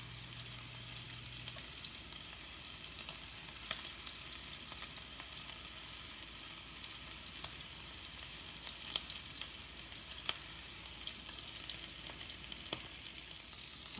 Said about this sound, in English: We're not looking to cook them, just to brown them. Give them plenty of room.